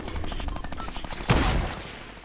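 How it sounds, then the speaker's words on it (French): Minigun firing in the video game Fortnite: a rapid, rattling stream of shots at a steady rhythm, somewhat distant, then a louder burst near the end. "Ça tire au minigun, je sais pas où."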